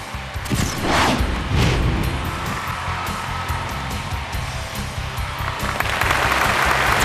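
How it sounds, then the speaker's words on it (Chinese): A studio audience at a Chinese family variety show claps steadily, a loud, even wash of applause with music playing underneath throughout. "掌声有请"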